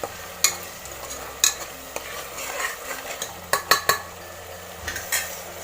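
Onion, ginger and garlic fry in a home kitchen pan, a soft sizzle running beneath sharp metallic clinks and scrapes from a stirring spoon that strike the pan at irregular intervals, close and fairly loud.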